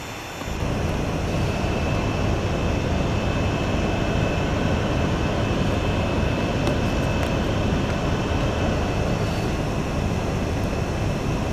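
One engine of a Boeing 737 MAX runs in a flight simulator game, giving a steady, loud jet whine and roar that drones on unchanged throughout.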